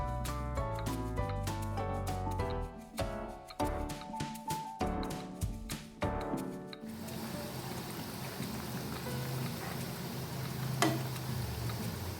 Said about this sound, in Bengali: হালকা তেলটা গরম হতেই আমি প্যাটিসগুলো দিয়ে দিচ্ছি